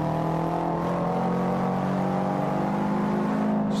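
Production rally car engine, a Cosworth, racing in Forza 5 on Xbox One: a steady, loud, continuous high-revving drone with a strong tonal hum, holding constant throughout.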